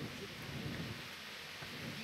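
Steady rain with rumbling thunder in Kingdom Come: Deliverance, a continuous medieval-world storm ambience holding at an even, moderately loud level throughout with no speech.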